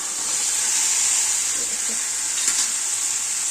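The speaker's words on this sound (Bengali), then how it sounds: "এবার আমি পনির আলু যেগুলো যে সব ভেজে রেখেছিলাম এগুলো এখন এর মধ্যে দিয়ে কষিয়ে নেবো" Fried paneer and potato pieces sautéing in a pan with chillies, giving a steady, close sizzle and hiss throughout with a few faint stirring scrapes.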